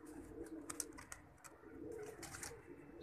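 Soft pigeon coos repeat over a hushed background, a few faint chirps mixed in, fairly quiet and close.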